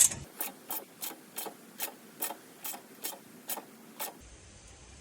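An 8mm socket wrench tightening a bolt while assembling a BBR Stinger bicycle: about ten evenly spaced ratcheting rasps, close and moderately loud, with no talk.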